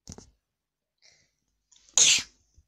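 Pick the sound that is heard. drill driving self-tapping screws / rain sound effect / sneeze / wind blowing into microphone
sneeze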